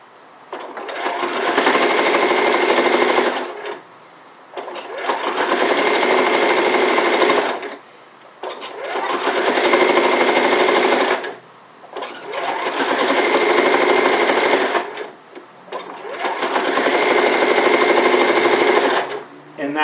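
A sewing machine stitches an elf hat together in five long, loud runs of steady whirring, each separated by a brief pause.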